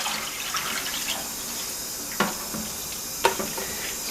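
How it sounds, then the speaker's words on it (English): Water from a juicer container is poured out, giving a soft, steady trickle into a sink with a couple of small splashes, close and fairly quiet. "So I'm going to empty that water."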